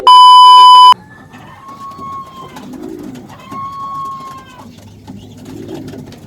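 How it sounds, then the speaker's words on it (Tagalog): A pigeon or dove gives soft, low cooing calls at close range in a quiet setting, preceded by a short loud electronic beep and followed by faint whistling tones. "ito na yung ibon natin na nakabalik."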